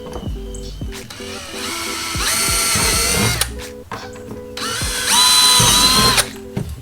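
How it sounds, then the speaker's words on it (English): A power drill whines up to speed in two long bursts, drilling holes for a motorcycle tour pack brace, with clicks and handling clatter in between, loud and close. "we could drill the other 2"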